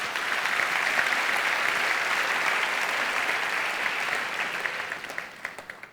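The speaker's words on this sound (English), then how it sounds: "thank you for the applause" An audience at a talk by product designer Jaime Hayón applauds steadily, a dense, even wash of clapping that thins out and fades over the last second.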